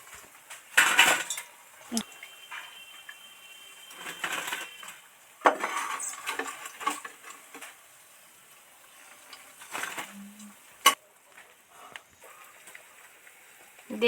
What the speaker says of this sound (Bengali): এবার তেল ছেঁকে আস্তে আস্তে সব কটা উঠিয়ে নিচ্ছি